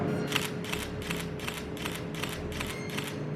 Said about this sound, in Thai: มีเสียงชัตเตอร์เหมือนกับเจ้ากล้องตัวดีของโซนี่เลยครับ